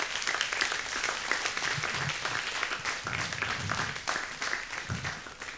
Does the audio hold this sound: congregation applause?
yes